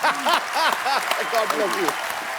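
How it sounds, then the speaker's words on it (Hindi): A studio audience at a comedy talk show claps and applauds while a voice speaks loudly over the clapping. "तालियां बजाई रहे"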